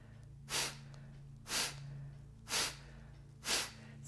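Four sharp, forceful exhalations through the nose, evenly spaced about a second apart, close and clear, as in a rhythmic yoga breathing exercise, over a low steady background hum.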